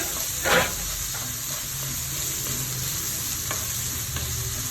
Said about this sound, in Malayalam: സവാള ഇട്ട് കൊടുക്കാം. ഒരു സവാള ഇടുന്നതാണ്.